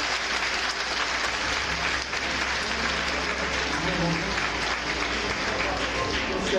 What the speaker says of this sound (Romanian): poate oferim un rând sănătos de aplauze și domnului general